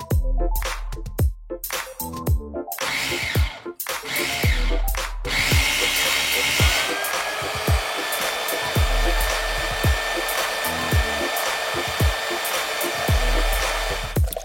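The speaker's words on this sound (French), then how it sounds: "Nous allons utiliser un tout nouveau mélangeur de construction maison pour bien mélanger." A new construction mixer churns a giant batch of mashed potatoes with eggs, giving a steady, loud motor whine with gritty churning, preceded by a few short bursts before it runs continuously.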